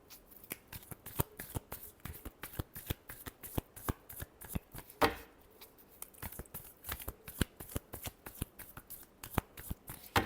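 Tarot cards being shuffled by hand in a steady run of crisp, rapid riffles and flicks, close and fairly loud, with one fuller burst midway and no talking.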